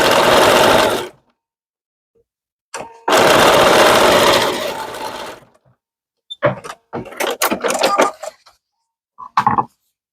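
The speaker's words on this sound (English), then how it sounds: "We'll sew these together." A sewing machine stitches quilt block pieces together from fall fabrics. It runs loud and close in two bursts, the second about three seconds long, followed by a quick series of clicks and short mechanical taps as the fabric is handled. No one speaks.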